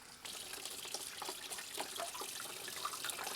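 Cold tap water running steadily into a sink to rinse a gelatin carbon photographic print, a continuous soft splashing and trickling, close and fairly quiet, with no voices.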